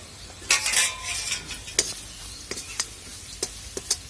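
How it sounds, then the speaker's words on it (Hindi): Coarsely pounded spices roasting in a pan for stuffed bitter gourd curry, with a soft steady sizzle broken by several sharp scrapes and clinks of a spoon stirring against the pan. "इन सभी चीज़ों को हम अच्छे से थोड़ी देर भून लेंगे।"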